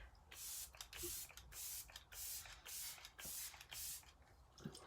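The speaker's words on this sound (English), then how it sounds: "we're going to go in with Let It Set Refreshing Spray, small but mighty" Let It Set Refreshing Spray mists onto a face in a rapid series of close, sharp hissing pumps, roughly eight bursts in quick rhythm with tiny pauses between them.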